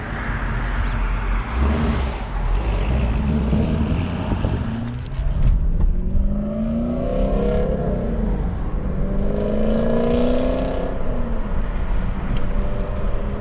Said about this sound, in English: his exhaust is gonna sound real good